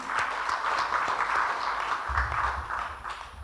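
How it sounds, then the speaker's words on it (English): Audience clapping for a team at the opening session of an AMECEA regional learning event, sustained applause from many hands at moderate distance, with some background murmur. "You can just wave and we can clap for them"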